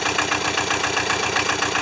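A rusty Hinomoto diesel tractor engine idles close by, a loud, steady chugging with a fast, even knocking pulse and no voices.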